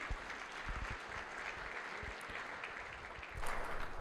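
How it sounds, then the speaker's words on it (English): An audience at an AI summit applauds a speaker, a continuous wash of clapping from a sizable crowd that swells slightly toward the end. "But another big round of applause for Keith Stryer from NVIDIA."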